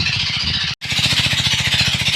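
A farm irrigation engine beside a village well runs loud and close with a steady fast thumping pulse, briefly cutting out for an instant before chugging on.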